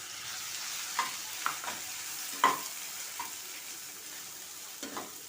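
Grated coconut sautéed in a pan for coconut rice, a soft steady sizzle with several light scraping stirs of a spatula at irregular intervals, fairly quiet and with no talking.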